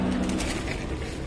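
Punjabi pigeons cooing softly in a loft, a low, fairly faint murmur of calls over a steady background hum.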